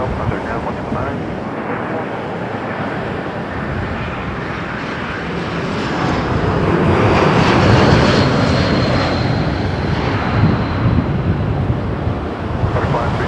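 Airbus A220 airliner arriving from Seattle on final approach to Toronto Pearson, its engine roar swelling steadily to a broad, loud rush with wind noise, heard from the ground; a voice talks over it.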